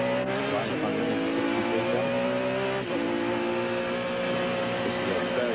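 A Camel Lights sports prototype race car corners fast at Lime Rock, its engine a steady high whine with shifting harmonics and a brief dip midway, heard at a distance under continuous talk.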